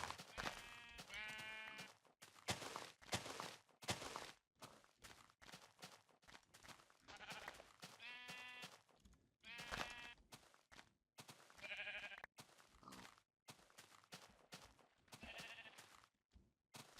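Minecraft sheep bleat repeatedly and clearly, a series of wavering baa calls spaced a few seconds apart, fairly close and standing alone over faint game background with no talk.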